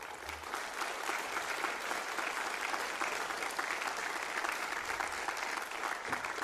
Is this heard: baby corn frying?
no